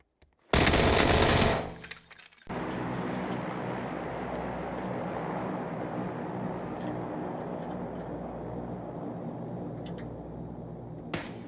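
A loud, harsh burst of gunfire aimed at the player on the Sanhok jungle map in PUBG, lasting about two seconds, then a steady outdoor ambience of wind and noise.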